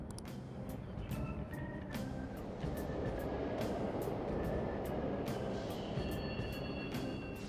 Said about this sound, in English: The trains are totally running.